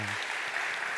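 A church congregation claps together in steady, dense applause during a Sunday service, a full roomy wash of hands throughout.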